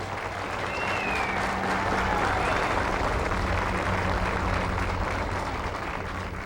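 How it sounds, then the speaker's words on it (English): Audience applause at the 1987 City of Torrance, California 75th anniversary celebration, a sustained loud round of clapping from a crowd that swells and holds steady for several seconds. "I'd like to have a great round of applause for the people who helped plan this day and the people who helped put it together."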